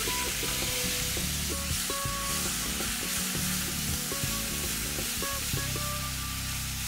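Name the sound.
onion paste frying in oil with whole spices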